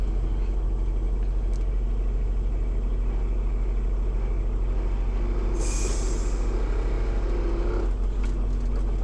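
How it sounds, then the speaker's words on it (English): A truck moves forward and makes an air brake service application with the foot valve, giving a continuous low rumble, a brief hiss of air and a faint squeal near the end. "Now I'm going to move forward and make a service brake application with foot valve"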